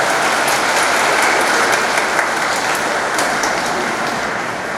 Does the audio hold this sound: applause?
yes